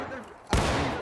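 A volley of musket fire in the Civil War game War of Rights, arriving as a sudden loud, dense burst of overlapping shots that rolls on as a sustained crackle after a quieter stretch of background noise.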